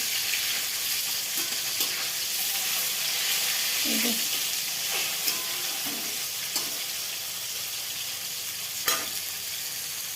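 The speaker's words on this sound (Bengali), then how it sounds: "তো এই যে মাছ ভাজা করছি" Fish fries in plenty of oil in a pan, a steady loud sizzle with occasional sharper pops and faint clinks from stirring, without talk.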